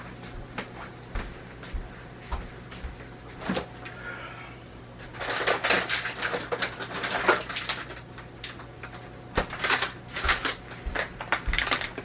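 Fries tumble into an air fryer basket in a home kitchen, a run of light rattling clatters and taps that grows busier midway, with faint background noise and no talk.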